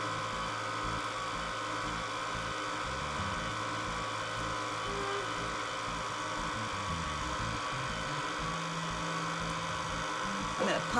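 A stand mixer kneads butter into Neapolitan baba rum dough, giving a steady, close motor hum with a faint low churning throughout.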